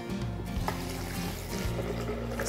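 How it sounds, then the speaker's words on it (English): Water is poured into a container for homemade almond milk, a steady, close trickling and splashing stream that runs for a couple of seconds. "And so you're going to add your water."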